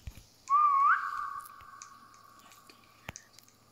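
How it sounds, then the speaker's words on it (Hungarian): One person whistling a short, clear rising-and-falling note that then holds as a long steady tone, heard alone over quiet background with a faint click near the end. "Fütyüljél."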